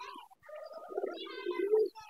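A pigeon cooing inside a pigeon loft at midday, a single soft, close, rolling coo of about two seconds in an otherwise quiet space.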